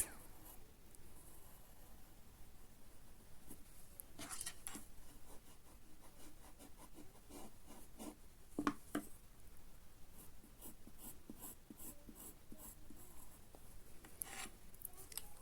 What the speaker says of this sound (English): So here I'm going to draw a face.